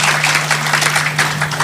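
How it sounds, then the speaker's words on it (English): Audience applause at a citizen assembly on debt and grand corruption, a dense, steady patter of many hands clapping with a low electrical hum underneath, brief and fairly loud. "Give her a round of applause"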